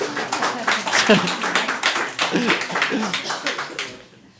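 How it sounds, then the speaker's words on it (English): Steady audience clapping during a panel discussion on woke capitalism, several seconds of dense, even applause that ends abruptly. "We'll clap everyone at the end."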